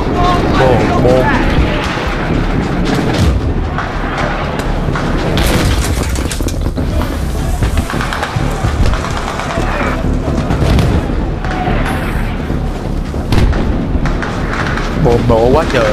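Battlefield 3 combat with explosions and bomb blasts booming continuously, dense and loud throughout alongside gunfire-like crackle, with voices talking over the chaos.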